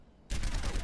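Rapid weapon fire in Overwatch bursts in suddenly after a quiet moment and stays loud and dense as a fast stream of shots to the end.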